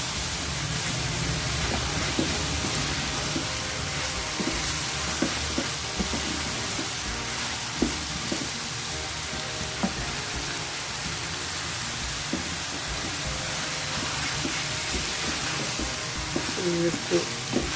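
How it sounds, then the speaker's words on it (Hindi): Sliced ridge gourd sizzles and fries steadily in a pan, with soft scraping and clicking of a stirring utensil scattered through a constant hiss. "इसको भूना जा रहा है।"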